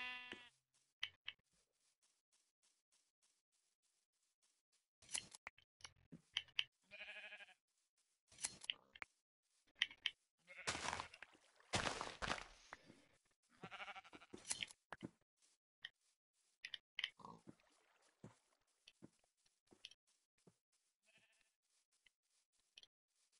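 Minecraft sheep bleat in short, scattered bursts, some rapid and clustered, separated by quiet gaps, with occasional game clicks and a voice talking in places.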